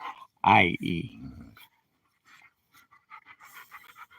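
A pet dog named Dakota pants in quick rhythmic breaths after a brief louder vocal burst near the start, close by and fairly soft.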